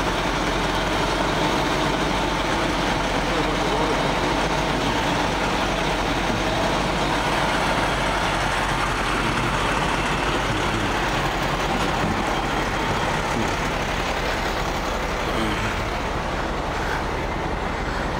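A fire engine idles steadily at a house fire while water runs down over it to cool the engine, a continuous low rumble with a broad wash of hiss that holds at an even level throughout.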